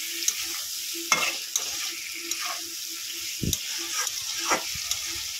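Potatoes and curry ingredients sautéing in a pan for a thin rohu fish curry with ridge gourd, with soft frying sizzle and scattered scraping strokes of a spoon, fairly close and without talk.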